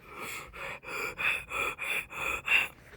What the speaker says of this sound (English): Shallow breathing is like...